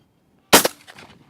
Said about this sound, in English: What am I shooting here? Well, this is the CZ Southpaw Sterling.